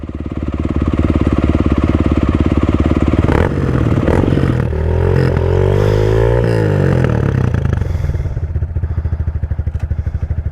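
A motocross bike engine runs loud and close, idling with a rough, rapid pulse and then revving up and settling back down in a few swells, with some clattering mechanical noise.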